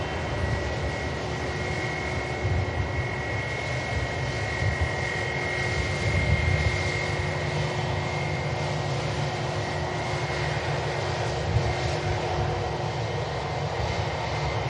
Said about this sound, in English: Speedbird 1365 taxis past A320 Uniform Hotel